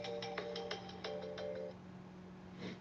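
Phone ringtone for an incoming call, a repeating electronic melody of short tonal bursts that plays clearly for a couple of seconds, with a steady hum underneath.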